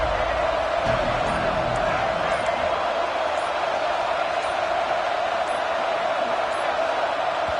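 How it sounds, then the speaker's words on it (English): A stadium crowd roars in the NCAA 25 college football video game, a dense, loud, steady wall of noise. "with this place rocking, the crowd forces a false start"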